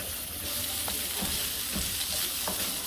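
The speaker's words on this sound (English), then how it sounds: "I add the vegetables, as you can see. They're still cooking." Vegetables sizzle steadily in a hot pan with a dense, even hiss and a few faint stirring knocks, close and continuous with no voices.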